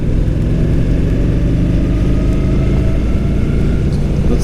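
A motorcycle engine rumbles loud and close, a dense, steady low drone with no talking over it and no distinct gear changes standing out.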